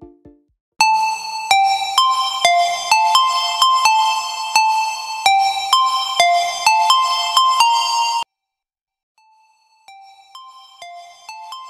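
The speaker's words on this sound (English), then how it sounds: "made this melody, by using pluck sound from Sylenth." A plucked synth melody from Sylenth plays a bright, bell-like line of evenly spaced notes. It repeats steadily for several seconds, then stops, and a quieter, sparser echo of the phrase follows.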